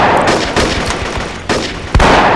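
Rapid gunfire from the PC shooter Marine Sharpshooter 2, dense bursts of shots with sharp loud reports at intervals over a continuous battle din.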